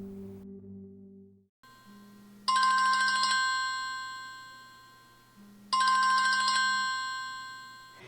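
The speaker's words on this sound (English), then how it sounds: "Phone rings, you answer it," A telephone rings with two electronic ring bursts a few seconds apart, each loud and clear before fading, close by with no voices.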